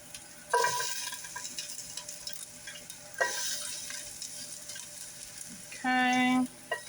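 Garlic drops into hot oil in a pan for a creamy mushroom garlic chicken dish, with a couple of sudden sizzling bursts that settle into a quieter crackle and a short steady tone near the end.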